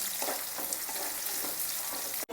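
Sliced onions sizzle steadily in hot oil for homemade chicken haleem while being stirred until brown, a continuous close crackle with soft scraping strokes and a brief cutoff at the end.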